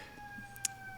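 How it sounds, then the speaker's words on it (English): Emergency siren heard in the background outdoors, a faint steady wail holding under the room tone for a brief moment, distant and low in level. "Sorry for the sirens in the background,"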